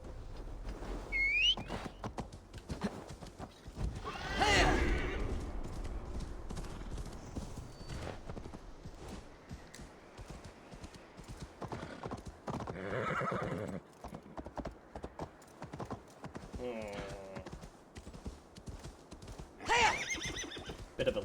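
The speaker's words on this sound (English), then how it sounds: "let's get our horse." Horse neighs and hoofbeats in the video game Assassin's Creed Valhalla: a loud whinny stands out amid steady clip-clop of hooves on ground, with a second neigh near the end and rustling game ambience throughout.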